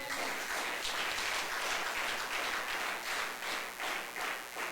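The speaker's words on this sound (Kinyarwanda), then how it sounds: "mubampera amashyi" A church congregation at a gospel gathering breaks into applause, a sustained wash of many hands clapping with gentle rhythmic swells, moderately loud and without talk over it.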